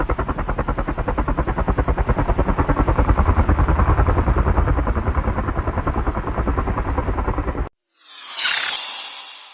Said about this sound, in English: it flies using spinning blades on top.